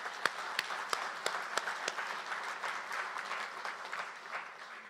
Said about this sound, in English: let's give everyone a round of applause